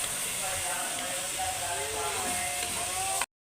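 Potato and cauliflower roasting in a pan, a constant close sizzling hiss with faint tonal squeaks, cutting off abruptly at the end; a voice may murmur underneath.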